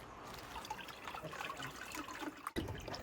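Water being poured in while making a papier-mâché giant head from shredded box cardboard, a soft continuous trickle and splash at low level, with a brief sharp knock near the end.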